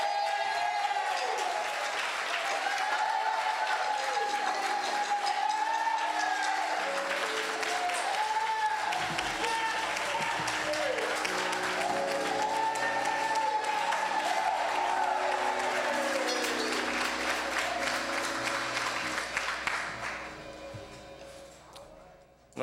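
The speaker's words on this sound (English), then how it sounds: "Give my brother a round of applause." A large audience at a political gathering gives sustained applause, a dense, steady wash of clapping with some cheering that carries on for about twenty seconds before tapering off near the end.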